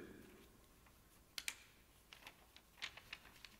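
A sheet of paper is bent back until it buckles, giving a few sharp, dry clicks and snaps, two close together and then several lighter ticks, in an otherwise quiet room.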